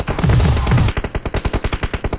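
Automatic gunfire from a battle royale video game rattles out in a fast, loud burst, followed by a steady run of evenly spaced single shots.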